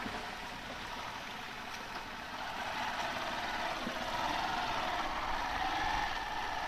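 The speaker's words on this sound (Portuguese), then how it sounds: "Esperar o carro passar ali." A car passes along a rain-muddied rural road in the interior of Pernambuco, a steady engine rumble and tyre wash that swells gradually as it draws closer, with no voices.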